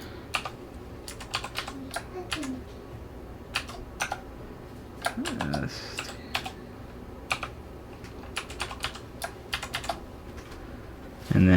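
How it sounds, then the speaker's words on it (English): A password is typed on a computer keyboard during setup of a Hikvision DS-2CD2142FWD camera. Steady, light key clicks come up close in irregular bursts, with a short pause midway and a louder thump at the end. "So I'm going to type that in."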